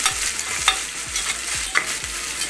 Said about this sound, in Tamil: பாருங்கள் வெங்காயம் போட்டேன், வெங்காயம் நல்லா வந்து வதங்கிட்டுருக்கு.